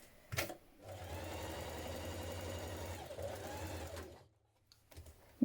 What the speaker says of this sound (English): Use a long stitch. Sew your underarm seam.